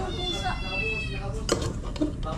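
A cat meows near a meal, its short cries rising over people chatting close by, with a faint clink of dishes.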